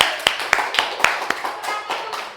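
Classmates clapping hands during a microteaching lesson, a handful of sharp claps in an uneven rhythm before fading into a softer patter of scattered claps.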